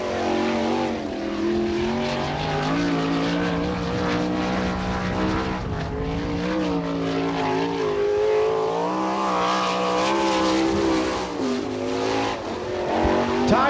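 A 1998 All Star Circuit of Champions sprint car on a qualifying lap at Attica, Ohio roars loudly and continuously, its engine pitch rising and falling through the corners, with a faint voice briefly audible.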